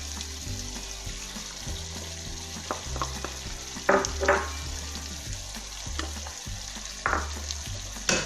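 Potatoes, peas and more vegetables fry in a pan for vegetable biryani, a steady close sizzle broken by repeated clattering, scraping stirs that come in short bursts.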